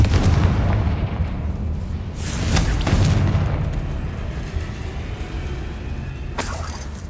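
Booming blasts from a Confringo fire spell in a Harry Potter-style video game, including a heavy explosion near the start and further bursts with crackling debris, over a dense, loud rumble.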